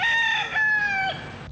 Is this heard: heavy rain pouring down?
no